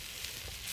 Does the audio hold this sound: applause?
no